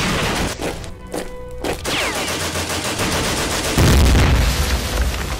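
Gunfire in a WW1 stop-motion battle scene: dense, loud bursts of machine-gun and rifle fire with heavy booming impacts, continuous and close, building to a deep blast near the end.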